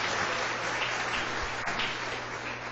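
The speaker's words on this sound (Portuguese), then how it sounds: "vamos manifestar nossa gratidão com a palavra, aplaudindo esse ensinamento maravilhoso do Senhor para nós aqui" A church congregation breaks into steady applause, a dense, even wash of clapping that fills the brief moment without speech.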